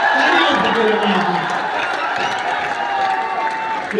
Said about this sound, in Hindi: बस तुम शोर बचाते रहना, तालियां बजाते रहना।